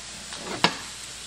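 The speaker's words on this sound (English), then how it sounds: "And here we're gonna melt butter, and we're gonna make a bechamel sauce for our stuffed peppers." Butter melts in a pan to start a bechamel sauce for stuffed peppers, giving a soft, close hiss of sizzling with a faint stirring scrape and one brief sharp tap, no voices.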